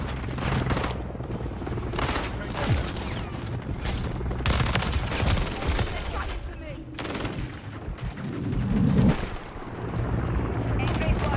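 Modern Warfare 3 gunfire rattles in repeated rapid bursts from an SMG and other weapons, loud and close and spread across the whole stretch, with someone talking over the shooting now and then.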